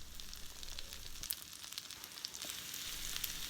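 Semi-dried onions fry in a pan with butter and garlic, giving a steady soft sizzle with faint crackling pops spread evenly throughout, close and fairly quiet.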